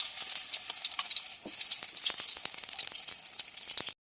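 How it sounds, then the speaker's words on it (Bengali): Onions frying in hot oil in a wok, a loud, crackling sizzle with dense popping that runs steadily for a few seconds, then stops abruptly. "তেলটা গরম হয়ে এসে পেঁয়াজ দিয়ে দেবো।"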